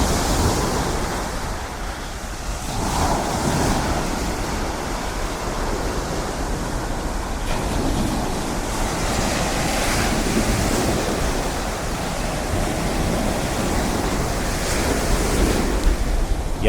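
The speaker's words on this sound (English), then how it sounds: "It's quite peaceful too, only the sound of the waves to contend with." Ocean waves break steadily on Rosslare Harbour Beach in County Wexford, Ireland, a continuous rushing wash of surf with wind noise blowing across the microphone and no voices.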